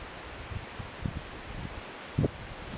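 Wind gusts through trees along a forest trail in the Grove Run valley near a lone beech, a soft continuous rustle of leaves with a few brief louder buffets and low rumbles, no voices.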